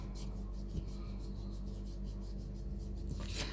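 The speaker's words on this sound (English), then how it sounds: "you can rub out your cross now if you want to get rid of that" Pencil being rubbed out on a Christmas card, a steady soft rasping friction that runs on throughout, fairly quiet and close, with a slightly louder scrubbing burst near the end.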